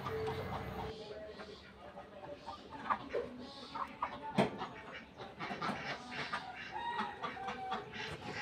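Backyard chickens cluck and call in short, irregular bursts at moderate distance, with a hen's squawks standing out among them and some voice in the background.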